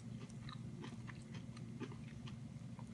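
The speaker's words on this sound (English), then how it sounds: "The batter is just so nice and crunchy." Crunchy battered onion rings being bitten and chewed up close, a run of quiet crisp crunches and munching over a steady low background hum, with no talking.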